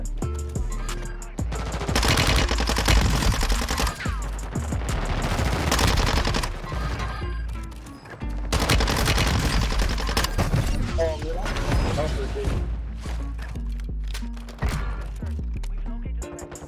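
Rapid bursts of gunfire in the video game Warzone 2, loud and sustained volleys in long stretches with brief pauses between them, close and dense throughout.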